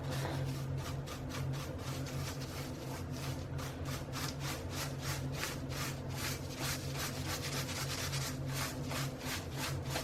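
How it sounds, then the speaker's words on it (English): Steady, continuous rhythmic scrubbing of a brush sweeping salt off paper during a colored-pencil tutorial, close and soft, with fast regular strokes throughout and no speech. "I'm just going to just dust away all the salt, and it should just come off."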